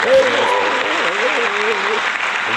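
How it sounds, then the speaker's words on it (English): Applause from an audience, a steady dense wash of clapping that holds loud and even for a couple of seconds, with a voice briefly over it at the start. "So let's give her a round of applause"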